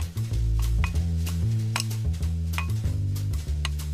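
Ham and tarragon being mixed in a kitchen bowl, with a spoon clinking and scraping against dishes in quick, uneven taps over a low steady hum.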